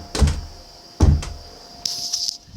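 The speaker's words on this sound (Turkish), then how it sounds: "Arkadaşlar bir kapıyı kapatayım" A door being shut indoors: two solid thumps about a second apart, followed by a brief higher rattling or squeaking slide near the end, close and otherwise quiet.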